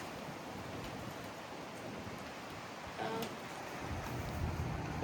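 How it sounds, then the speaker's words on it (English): Strong wind from a severe thunderstorm roars steadily with continuous rushing noise and buffeting on the microphone, a bit louder toward the end. "we're getting hit by strong winds"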